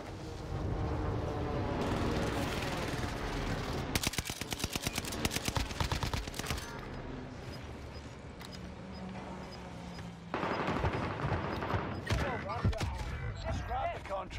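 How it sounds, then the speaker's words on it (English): Airstrike explosions in Call of Duty Warzone on Rebirth Island, a dense burst of loud rapid blasts and crackling gunfire amid ongoing game noise, with voices talking through it. "Allied precision airstrike incoming."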